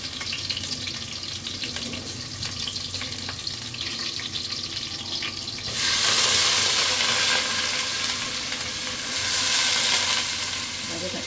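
Bay leaf, cardamom and cinnamon sizzling in hot oil in a pan while cooking rice tehari, a steady close frying hiss that swells louder around the middle and again near the end.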